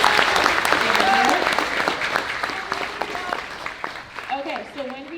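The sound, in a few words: round of applause for guests at a high school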